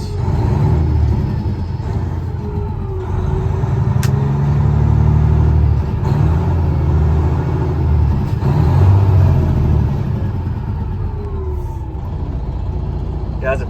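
A 2018 Kenworth T800 factory glider kit daycab truck engine runs steadily at operating temperature, a loud continuous diesel rumble that rises and falls smoothly as the revs climb and settle.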